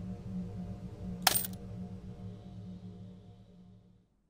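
Coins clink as payment in the Faded Stories: Full Moon video game, a single bright metallic jingle over a steady low musical background.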